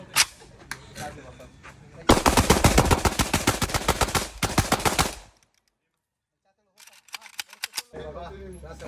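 A Riley Defense RAK-74 rifle firing a rapid string of loud, close shots in a burst of about three seconds. Scattered single shots follow after a brief silence.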